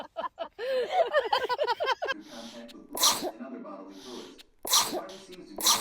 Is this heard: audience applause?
no